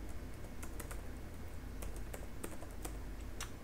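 A command is typed on a computer keyboard while installing Laravel 8 with Composer, producing quick, close, irregular key clicks over faint steady background hiss.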